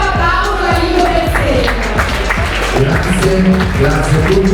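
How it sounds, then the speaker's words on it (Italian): Applause from the audience at a Miss Stella Della Notte beauty pageant selection in Vicenza, steady and fairly loud for the whole stretch, with music and a voice running underneath. "Facciamo un bel applauso a Lido del"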